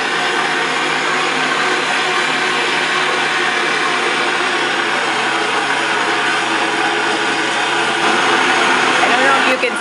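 A stand mixer kneads wet bread dough as flour is added, giving a steady, loud motor whir that holds unchanged throughout, with no pauses.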